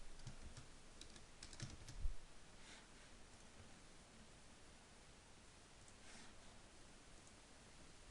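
Faint keystrokes on a computer keyboard while entering plot legend commands in Mathematica, soft scattered clicks under steady background hiss.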